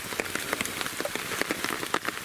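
Rain falling outdoors at night near an old tunnel in Shiga, a steady dense patter with scattered sharper drops hitting nearby surfaces, continuous and close with no talk.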